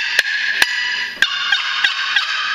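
Raspy, high-pitched yelps from a turkey box call imitating an aggressive boss hen, a steady scratchy tone punctuated by about six sharp clucks at uneven intervals.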